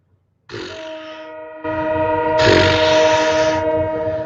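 Train horn sounding from a passing produce train, a long sustained multi-tone blast that starts abruptly, drops out briefly, then returns louder and steadier, fairly close and alone with no talk.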